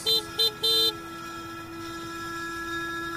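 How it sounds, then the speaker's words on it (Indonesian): Car horn honking on a Jakarta street while driving: three short blasts, the last one longer, loud and close, followed by steady traffic and engine rumble. "Ketika aku pencet klakson,"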